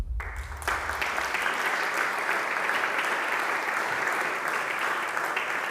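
A ceremony audience at the CCB in Lisbon applauds steadily for the Amélia de Mello 2026 research grant, a dense, even wash of clapping that starts after a brief low rumble and holds at full strength for about five seconds.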